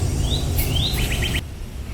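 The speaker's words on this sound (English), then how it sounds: "Listen to the birds and everything, guys." Birds sing in a garden on a sunny day, with a few thin rising whistles and a quick series of short chirps over a steady outdoor background hiss.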